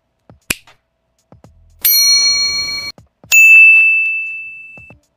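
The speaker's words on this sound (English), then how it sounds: "I just got the notification that you touched on that red button" A bright notification ding sound effect rings out twice, each tone sustained and slowly fading, after a few soft clicks.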